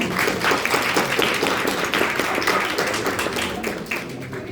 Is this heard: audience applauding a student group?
yes